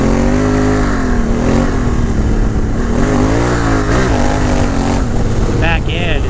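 A Honda Africa Twin motorcycle engine accelerates on a dirt fire road, loud and close, its pitch swelling and dipping with throttle changes over wind noise.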